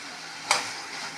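A spatula knocks once against a pan while masala chitranna rice is being stirred, a single brief scrape over a low steady sizzle.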